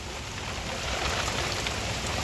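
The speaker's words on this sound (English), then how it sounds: "It's raining" Steady rain drums on the roof of a Canadian dairy and crop farm, a dense constant hiss with no voices.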